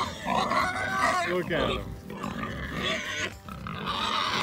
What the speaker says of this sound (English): Angry pig.